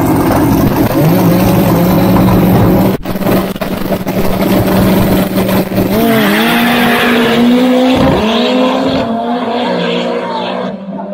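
A race car squeals its tires during a tire warm-up at Interlagos on a practice day, with loud, sustained screeching over a roaring engine that rises and falls in pitch before cutting off.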